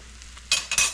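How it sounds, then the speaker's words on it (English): Smoked chicken fried rice stirred and broken up in a hot pan, quiet sizzling at first, then two loud bursts of scraping, hissing frying toward the end. "We're going to break it up and stir that to mix."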